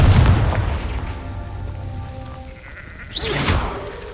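A Confringo fire spell from Hogwarts Legacy bursts with a short booming blast, then a fainter second whooshing burst follows about three seconds later.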